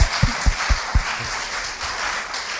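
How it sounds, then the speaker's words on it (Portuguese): A church congregation at a Sunday morning service claps: a few loud, evenly spaced beats open, then a softer spread of crowd clapping that thins and fades toward the end. "Aplauda o Senhor."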